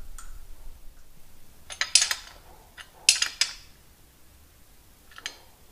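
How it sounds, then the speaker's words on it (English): An M16 nylock nut being tightened onto a hydraulic lift pump, a few sharp metallic clicks and clinks in short bursts separated by quiet pauses. "Once the nut is fully tightened,"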